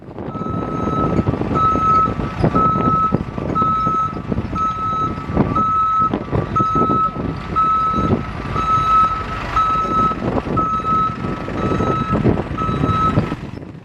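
A truck slowly following street protesters, its reversing beeper sounding in steady repeated pulses over a rumbling engine and traffic noise, loud and close throughout.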